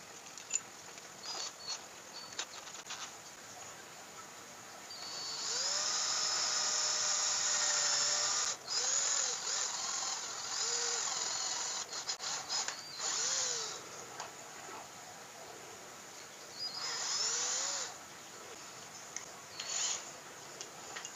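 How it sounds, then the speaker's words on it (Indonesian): A power drill with a 7 mm bit whirs in several bursts of varying length while drilling a hole, with a steady hum and short pauses between runs. "Kemudian selanjutnya saya menggunakan mata bor ini, ukuran 7 mm."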